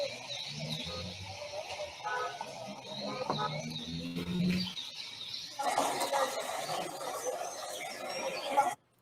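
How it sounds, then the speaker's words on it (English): Generated soundscape mixing a city with the bush: bird chirps and calls over a murmuring, chattering background, then a denser, louder wash of city noise rising midway and cutting off abruptly at the end. "If you wanted to generate the soundscape for a city in the bush,"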